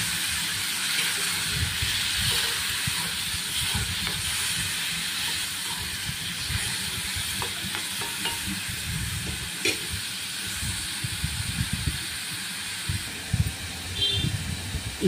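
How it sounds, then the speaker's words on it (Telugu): Curry leaves and tomatoes fry in a pan, giving off a continuous close sizzling hiss with faint crackles and occasional stirring clinks. "బాగా వేగనిద్దాం."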